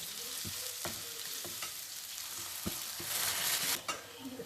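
Onions shallow-fry in a pan for paneer fried rice, a steady close sizzle broken by several sharp clicks and scrapes of stirring, with a brief louder hiss near the end.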